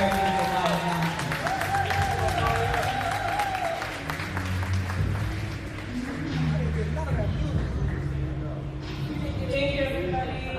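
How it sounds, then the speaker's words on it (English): An audience claps for speaker Maya Johnson, a steady patter of applause that runs the whole time, mixed with voices and tonal background sounds. "Start clapping right now for the very beautiful Maya Johnson."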